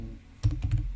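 A computer keyboard clicks as its keys are pressed one after another during game-development testing, giving a quick run of close, crisp taps in a quiet room.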